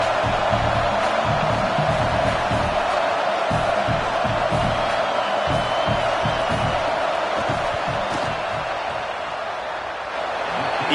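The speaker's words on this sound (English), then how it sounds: "This crowd trying to do its part to get inside the kicker's head" A stadium crowd at a football game roars and cheers continuously through a field goal attempt, a dense, loud wash of voices with scattered whoops and thumps, steady throughout before easing slightly near the end.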